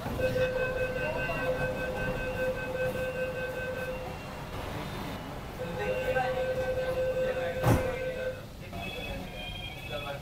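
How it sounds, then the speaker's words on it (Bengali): A metro train enters the opposite platform at a Kolkata station, a sustained tonal whine broken by a short pause, with a loud clank near the end and people talking in the background. "উল্টো দিকে একটা ট্রেন ঢুকছে।"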